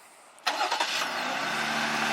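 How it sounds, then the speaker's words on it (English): A 2020 Jeep Gladiator Overland engine fires up by remote start after a quiet moment, catching with a sharp crank and flare, then settling into a steady close idle with no talk. "we can double tap this button here, and it has remote start"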